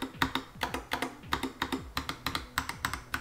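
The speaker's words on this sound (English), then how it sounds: "I also do prefer the sound coming out of the three split space bars versus, you know, the really wide one" Steady typing on a Skyloong GK75 mechanical keyboard with a three-piece split space bar, close and crisp, with irregular clacky keystrokes in quick bursts and no voices.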